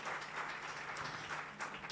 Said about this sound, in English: Can we give Hloni one more round of applause?